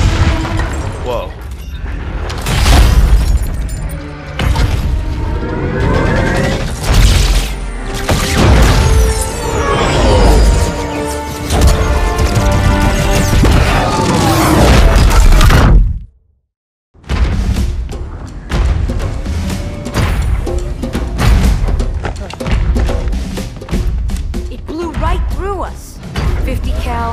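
Booming rocket explosions and heavy impacts in Halo 2, loud and repeated amid dramatic music and voices, with a brief moment of silence midway.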